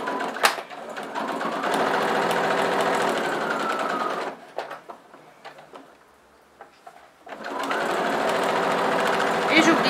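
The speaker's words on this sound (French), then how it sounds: "Je continue à coudre jusqu'au bout." A sewing machine stitches fabric in a rapid, steady mechanical whir, running for about four seconds, pausing briefly with light handling clicks, then starting up again near and loud. A voice speaks over the stitching.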